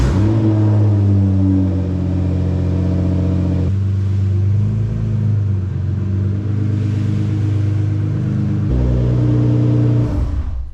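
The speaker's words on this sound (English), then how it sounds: "Let's go ahead and get the GTR into the garage, get the factory wheels off." Nissan GT-R engine running steadily with a deep, loud rumble close by as the car moves into a garage, the tone rising and dipping slightly with throttle throughout.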